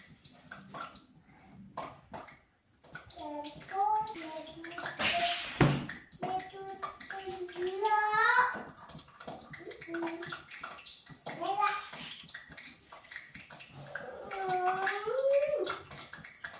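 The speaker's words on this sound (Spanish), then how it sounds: "ya lo voy a echar para que ya se vaya friendo" Cut-up food sizzles and spits in a frying pan, a soft crackling hiss beneath someone speaking, with one sharper burst of sizzle partway through.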